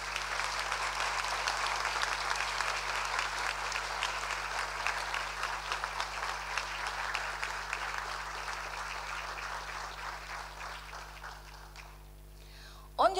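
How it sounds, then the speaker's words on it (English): A graduation day audience applauds the staff in a large hall, a long, continuous wash of many hands clapping at steady volume that fades slightly near the end. "I would like you to give an applause to them"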